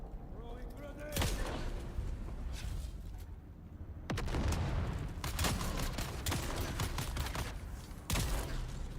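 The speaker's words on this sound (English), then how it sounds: "2 shots, guys. That's a revolver." Revolver gunshots in Dune Awakening, a handful of loud, sharp cracks at irregular intervals, the strongest two falling around a second apart, over steady game ambience with occasional background voices.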